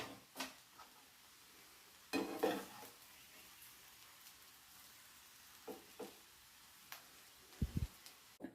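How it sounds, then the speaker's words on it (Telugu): Cooked rice and fried cauliflower pakoda are tossed together in a pan, with scattered scraping and clinking of a spoon on metal and light sizzling between quiet pauses, faint and without voices. "దాంట్లోనే క్యాలీఫ్లవర్ పకోడీ కూడా వేసుకుని మిక్స్ చేసుకోవాలి"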